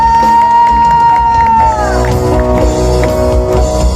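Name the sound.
church congregation cheering and shouting praise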